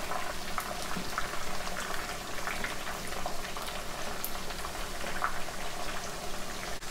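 Pieces of steamed chicken frying in oil, a dense and even bubbling crackle that holds steady and close for several seconds with no talking.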